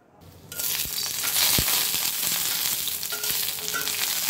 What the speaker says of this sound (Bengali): একটু সামান্য তেল দিয়ে ভেজে নেব